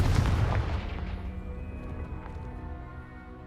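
A Confringo blasting curse in Hogwarts Legacy bursts with a single deep, booming blast at the start that fades into a long rumbling tail, moderately loud and with no voices.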